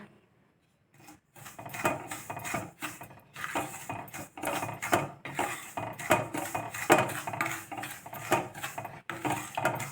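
Semolina being dry-roasted in a pan and stirred steadily with a utensil, producing repeated close scraping and clinking strokes in an uneven rhythm that starts after a brief silence, with no talking.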